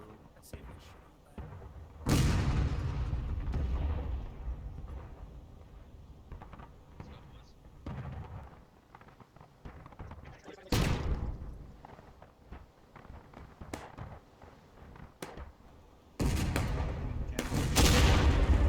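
Musket volleys in a multiplayer line-battle video game: three loud, booming massed discharges spaced several seconds apart, with scattered distant shots and faint game ambience between them.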